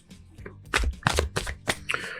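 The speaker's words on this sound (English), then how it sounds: "I'm going to shuffle again" A deck of tarot cards is shuffled in several quick, papery riffling bursts, close and fairly loud, with no talking.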